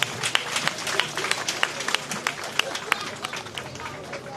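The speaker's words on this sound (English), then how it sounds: "Please give another big round of applause to all of our inspirational leaders." An audience at a live community event honoring women leaders claps steadily. The sustained applause has sharp individual claps standing out, with some crowd noise and voices mixed in.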